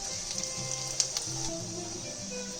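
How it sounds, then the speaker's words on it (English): Onion and garlic fry in butter in a pan, producing a steady close hiss and sizzle with faint crackles and small pops, heard on its own without talk. "getting this aroma of butter and the onion garlic beginning to cook in this"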